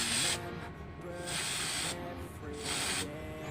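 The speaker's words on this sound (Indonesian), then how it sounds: "di sini gue semprotnya di dalam rumah, cuman pintunya gue buka biar ada ventilasi" Spray can applying primer to an Optimus Prime action figure indoors, with the door open: three separate short hissing bursts of spray, fairly close and steady, with brief quiet gaps between them.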